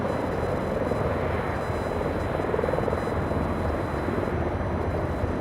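Air Force One taking off from LAX, a loud, steady roar of jet engines that fills the whole stretch evenly with dense broadband noise and no voices.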